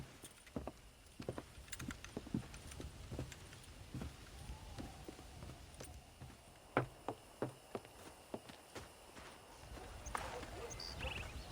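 Hooves clip-clop on the ground in the Red Dead Redemption video game, irregular footfalls near and far with a faint whinny, under a man's speech and a quiet ambient bed.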